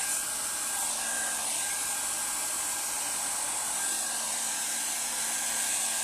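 A hair dryer blows on ink artwork to dry it, giving a loud, continuous close-up whoosh with a steady motor whine and no talk.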